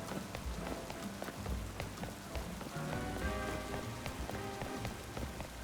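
Rain in the video game Pokémon Legends Z-A falls as a steady, close pattering on surfaces throughout, with faint tonal game sounds underneath and no speech.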